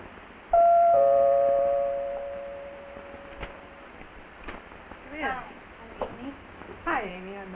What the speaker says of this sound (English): And then one day, you're ringing their doorbell.